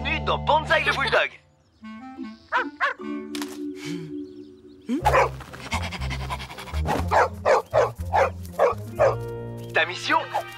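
A bulldog in a cartoon game barks and yips in lively bursts, with whimpers and panting, mixed with voices talking and playful music.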